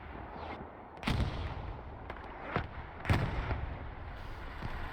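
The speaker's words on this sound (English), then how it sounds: "we have 2 artillery guns going" Artillery guns firing during a large-scale Hell Let Loose battle at Sainte-Mère-Église, a few heavy booms spaced about a second or two apart over a steady rumbling background.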